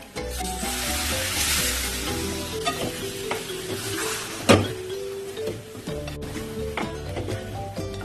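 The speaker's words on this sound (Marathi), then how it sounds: "आता तूप टाकू आपण याच्यात" Ghee sizzles steadily as it is stirred into beetroot halwa cooking with milk cream, a continuous frying hiss with scraping strokes and one sharper clatter midway, over steady tonal background music.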